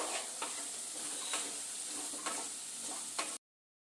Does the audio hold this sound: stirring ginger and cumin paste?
yes